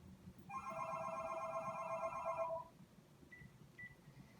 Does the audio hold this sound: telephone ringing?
yes